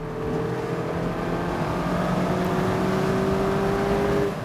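A 2021 Mazda MX-5 engine winds up steadily toward its 7,500 RPM redline, a loud, continuous rising rev heard up close and alone, with no talk over it.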